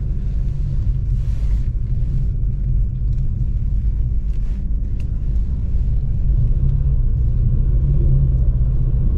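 A car rolls along a snowy road on Pirelli SottoZero winter tires, a steady low rumble of tires and engine running unbroken throughout with a little wind noise and no talk.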